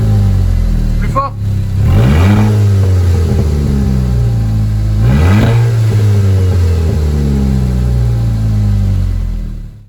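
A car engine with its exhaust silencer removed, idling loud and raspy then revved sharply twice, each blip rising and falling back to a deep rumble, with a brief voice early on.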